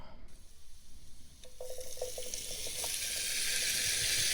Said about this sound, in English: Now let's hear that sizzle.